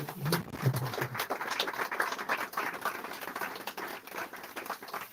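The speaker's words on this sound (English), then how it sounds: "So please give them a big applause" Audience applause at a press conference, a dense, moderately loud patter of many hands clapping continuously for about five seconds, with a brief murmur of voices.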